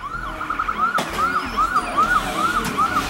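An ambulance siren wails in a steady rising-and-falling cycle, loud and close, over a low rumble of road noise, with no voices.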